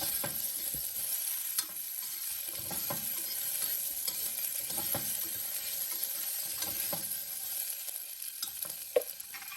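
Green chillies being stirred into sautéing ginger and garlic in a pan for a pressure-cooker vegetable biryani, with steady sizzling and scattered spoon scrapes and clicks throughout, no talking.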